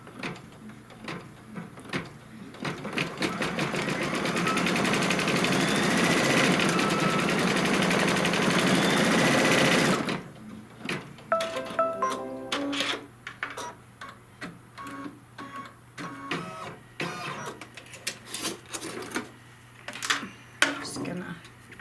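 A sewing machine stitches a tack-down line on a Kimberbell quilt block, running loud and steady for about ten seconds, then stopping into scattered clicks and handling noises.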